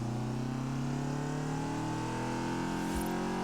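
A car engine in the racing game Forza Horizon 4 hums steadily at cruising speed, its harmonics slowly drifting as the car drives on, loud and continuous with no talk over it.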